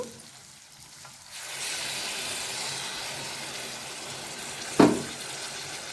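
Masala stirred into ivy gourd curry in a pan sizzles steadily after a quieter start, a broad frying hiss with one brief scrape of the spoon near the end.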